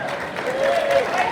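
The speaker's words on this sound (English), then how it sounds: "Big round of applause there." A crowd applauds at an amateur motorcycle racing awards banquet, giving brief, steady clapping with a voice or whistle rising through it.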